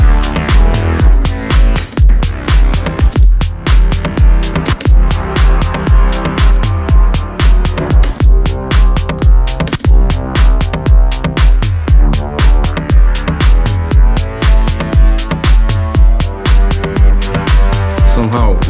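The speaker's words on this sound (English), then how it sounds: "Somehow way too much reverb." Loud, dense music with a steady pulsing beat, its notes smeared together by a long, washy reverb tail that fills every gap.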